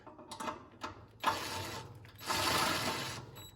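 A screw for a towel holder is driven into a Blackstone storage and prep cart, with quiet clicking ratchet turns and a couple of longer grinding spins, close and faint, with no talking.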